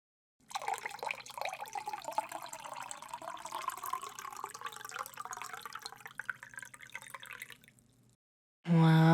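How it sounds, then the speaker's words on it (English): Liquid pours in a steady continuous stream for several seconds, close and fairly quiet, with a soft trickling texture before stopping abruptly. "We'll pour it together."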